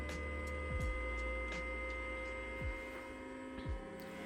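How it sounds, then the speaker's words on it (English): A steady, faint electric whir from the small cooling fan on a Toro 60V snow shovel battery, a constant low hum with a few light ticks over it, no speech. "Never heard a fan on a battery before."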